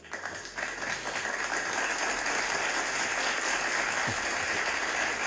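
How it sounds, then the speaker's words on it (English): Applause on a live coding stream, a steady wash of many hands clapping that swells after a brief opening and holds at an even, moderate level for several seconds without any talk over it. "Come on, man, clap it up for the volunteers."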